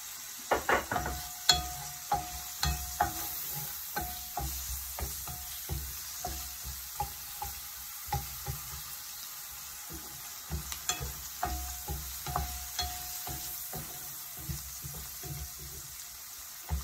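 Onion and tomato sauté in a pan for string beans with minced beef, a faint, steady sizzle punctuated by regular, evenly spaced scrapes and taps of a spatula stirring close by.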